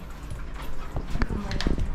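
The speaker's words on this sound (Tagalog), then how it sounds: "May bagong aso dito eh." A dog in an apartment building lobby gives short barks and whimpers close by, mixed with footsteps and people talking.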